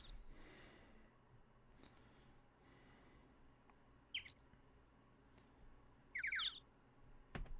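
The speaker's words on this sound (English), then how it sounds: "Bird noises." Bird noises from the video game Ace Attorney - Trials and Tribulations: two short bursts of high, bright chirping calls, a few seconds apart, over a faint steady background hum.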